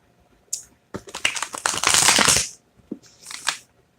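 Tarot deck being shuffled by hand, a couple of quick riffling bursts with a longer dense flutter of cards in the middle, close and fairly loud with no talking.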